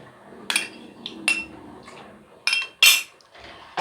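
A metal spoon stirs milk curdling with vinegar in a pot, giving a handful of sharp, irregular clinks and scrapes against the metal, close by, with quiet gaps between them.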